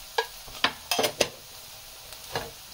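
Onions frying slowly in hot oil for dal, quiet sizzle broken by several sharp spoon scrapes and clinks against the pan.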